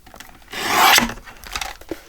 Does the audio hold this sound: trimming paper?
yes